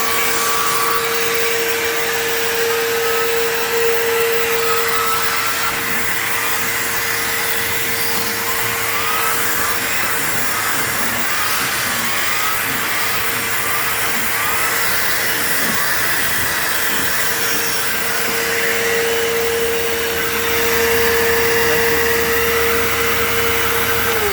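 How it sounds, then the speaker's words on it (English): A Eureka PowerForce 3522-6 vacuum cleaner runs steadily with a constant motor whine and a whirring turbo brush, loud and close, with no talking. "Let's see how well it spins up this turbo brush"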